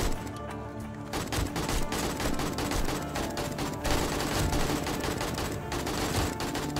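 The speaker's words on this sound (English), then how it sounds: "Grenade out! The synchronized grenades." Grenades going off in the zombie survival game 7 Days to Die, a dense sustained barrage of booming blasts and crackling gunfire packed closely together, loud throughout with no clear pauses.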